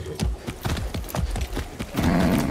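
Horse hooves in the video game Far Cry 6 clip-clop in a quick, uneven rhythm, a run of close thuds on hard ground that fades into a softer rumble.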